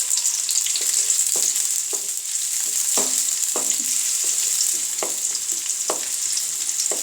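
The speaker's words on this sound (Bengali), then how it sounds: "তো এখানে আমি পেঁয়াজ দিয়ে দিলাম।" Onions fry in oil in a pan for a sour tomato soup, a close, continuous hiss broken by repeated clinks and scrapes of a spatula stirring at an uneven pace.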